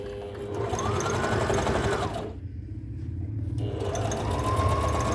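A sewing machine doing embroidery on a salwar cuff while running on inverter power. It gives a close, steady, rapid mechanical whirr with a fast stitching rhythm, pauses briefly partway through, then runs again.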